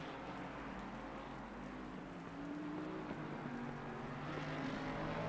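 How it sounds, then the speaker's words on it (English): Steady rain hiss from a sim racing game at the Nürburgring, with rising and falling engine tones of race cars running underneath the constant wash throughout. "this is a rain race"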